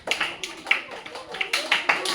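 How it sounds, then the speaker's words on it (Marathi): During an educational game, children clap in a handful of sharp, uneven claps, some grouped in quick clusters, fairly close and moderately loud, with voices talking in the background. "छान छान छान टाळ्या वाजवा."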